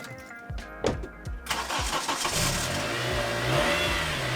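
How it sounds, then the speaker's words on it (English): A car engine cold-starting on a frosty morning: a few cranking chugs, then it catches and settles into a steady, fairly loud idle with a slight rev. "Listen to this cold start."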